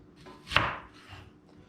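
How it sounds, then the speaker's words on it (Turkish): A knife slices through a peeled onion on a cutting board in a home kitchen, one crisp chopping strike landing against the board, then faint small follow-up sounds. "Şimdi soğanı soydum ikiye bölelim."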